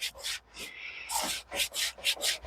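Old, worn 80-grit sandpaper rubbed by hand against a sawmill's band blade to scrub off buildup, heard as a series of close, loud scratchy strokes in an uneven back-and-forth rhythm, with no talking.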